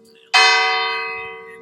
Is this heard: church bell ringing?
yes